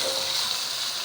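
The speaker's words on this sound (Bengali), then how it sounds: "এখন আমি চিকেনগুলি দিয়ে দিচ্ছি।" Chicken pieces go into a pan of onions frying to light brown, and a steady broadband sizzle with a faint hiss and bubbling carries through the whole short moment, close and even, with no talking.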